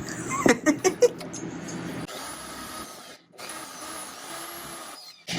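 A power drill whirs steadily against a Ford Raptor truck fender after a few short knocks, running for several seconds, pausing briefly, then grinding on again nearby.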